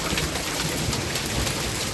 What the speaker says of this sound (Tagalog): Tignan nyo yung yelo, ang lalaki, oh.